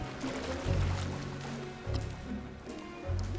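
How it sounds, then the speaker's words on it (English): Bubbles gurgle up from the sea in Don't Starve Shipwrecked, a soft watery burbling that rises in low swells again and again beneath a steady game backdrop. "Oh, look, more suspicious bubbles."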